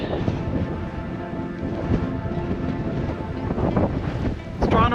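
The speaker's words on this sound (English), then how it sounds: "It's pretty windy, isn't it?" Strong wind buffets and roars across the microphone in heavy gusts, rumbling low and loud throughout.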